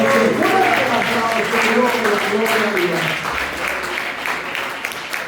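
Loud, sustained applause from a church congregation at an evangelical service fills the room, with a voice speaking over it at the start before the clapping carries on alone.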